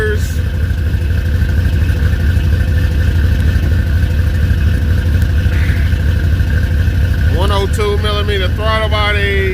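A junkyard 4.8 truck engine idles steadily and loud, fitted with a slight muffler ending under the cab, decapped flex fuel injectors and a 102mm throttle body, with someone talking over the drone.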